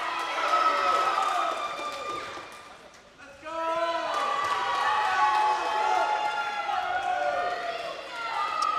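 Spectators from both teams yell and cheer at a WPIAL high school swimming meet between Armstrong and Gateway, a busy swell of shouting voices that dips briefly near the third second and then surges back, with a commentator talking over it.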